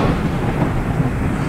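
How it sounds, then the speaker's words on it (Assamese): Heavy rain drums steadily on a car travelling by road from Tinsukia to Guwahati in Assam, a dense, constant roar with low rumble and no voices. "ইমান বৰষুণ বাপৰে"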